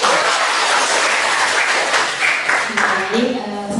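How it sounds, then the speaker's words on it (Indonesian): Applause from a lecture audience in a nursing faculty class, a dense steady wash of clapping filling the room throughout, with some voices rising over it near the end. "Tepuk tangan dulu dong."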